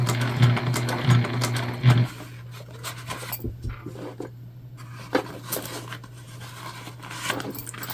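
A sewing machine stitches along the piping of a Zora shoulder bag, a loud, steady mechanical hum for about two seconds that then stops, followed by quieter scrapes, rustles and fabric handling.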